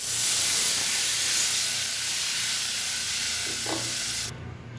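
Water hits a hot pan of cooked spice masala for a katla fish curry, producing a loud, close burst of hissing steam and sizzle that gradually settles, with a faint stir midway.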